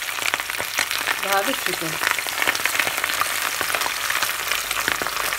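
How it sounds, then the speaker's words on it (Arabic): Fish fries in hot oil with a dense, continuous crackling sizzle that stays steady throughout, while a voice speaks briefly near the start. "راح نبدي بقلي السمك طبعا بالزيت الحار"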